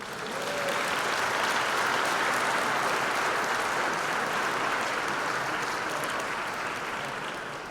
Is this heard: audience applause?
yes